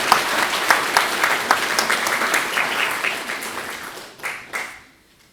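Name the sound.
audience applause welcoming a speaker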